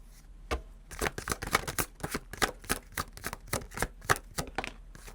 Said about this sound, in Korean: 좀 더 카드 뽑아볼게요.